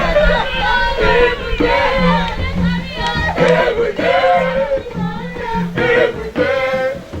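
A crowd of voices shouts and clamours in a dramatised reading, overlapping loud cries rising and falling in waves, close and forceful without letup.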